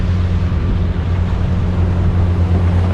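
A Gunboat sailing catamaran motoring under engine on the open Atlantic, a steady low engine drone with wind rush and water noise, continuous and close.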